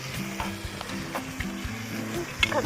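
A spoon stirs curry in a pan on the stove, scraping and clattering against the metal in an irregular rhythm over a steady soft sizzle, close and moderately loud with no talking.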